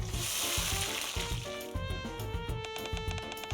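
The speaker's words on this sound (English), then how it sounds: "Sizzle. Let's grill some meat." Meat sizzles on a grill in the video game Nikke, a hissing frying noise that is strongest at the start and then sits under a rhythmic, tuneful game music loop with steady beats.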